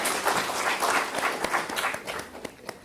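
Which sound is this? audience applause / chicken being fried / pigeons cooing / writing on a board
audience applause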